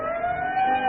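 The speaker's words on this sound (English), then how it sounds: "Whenever you hear the siren and bell," A siren from a Texaco Fire Chief radio advertisement sounds alone for under a second as a steady, fairly faint tonal wail, slightly rising at the end.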